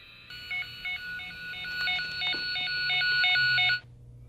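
A Platinum Tools TP500C LanSeeker cable tester and tone generator emits a warbling electronic tone, a rapid pattern of alternating beeping pitches lasting about three and a half seconds, clear and close with no talking.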